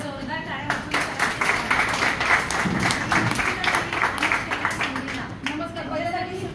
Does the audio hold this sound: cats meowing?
no